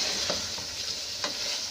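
Mutton ginger with green coriander sizzles in a pan while a utensil stirs it, a soft continuous frying hiss broken by a couple of quick scraping strokes, close and alone.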